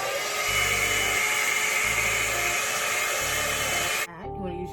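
A hair dryer blows steadily on a frontal wig during an install, a loud continuous whir whose low motor hum pulses slightly before it cuts off near the end.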